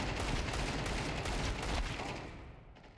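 Gunfire in Counter-Strike comes as a dense, rapid clatter of shots that stays steady, then fades into quiet near the end, faint overall and heard from a distance.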